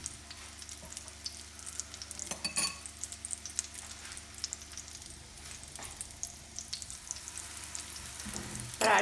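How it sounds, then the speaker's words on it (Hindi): Paratha frying in cooking oil in a home kitchen makes a soft, continuous sizzle with faint crackles and occasional utensil clinks, heard alone without talk. "तो पराठे बनाना शुरू करते हैं।"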